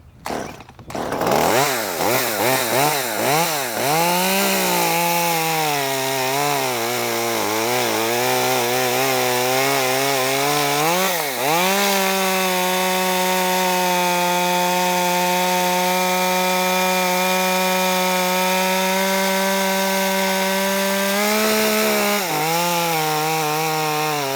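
A chainsaw fitted with an Oregon Speedcut Nano chain revs up and cuts through wood, loud and close, with a sustained snarling engine whine that bogs slightly mid-cut and continues steadily.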